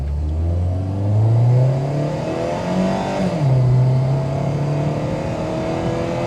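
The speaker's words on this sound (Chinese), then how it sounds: "脚油门下去，踩" A 2009 Honda Civic with a loud aftermarket-sounding exhaust accelerates hard, its engine note climbing through the revs, easing briefly as it shifts, then pulling up again, heard close and loud from inside the car.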